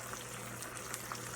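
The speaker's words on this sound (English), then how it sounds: "See, there is a boil coming." Chicken satay sauce with added water coming to a boil in a pan, a faint, steady bubbling sizzle with occasional small pops, close and without talk.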